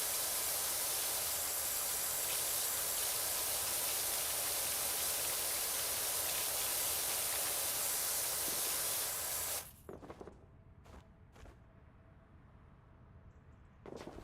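A pressure washer in PowerWash Simulator 2 sprays with a loud, steady hiss for about ten seconds, then cuts off, leaving a few short bursts and quiet.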